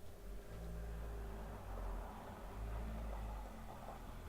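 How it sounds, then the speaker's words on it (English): A large car drives away outside a house, a low steady rumble heard faintly through walls that swells slightly as it pulls off. "The car outside my house. It's driving away."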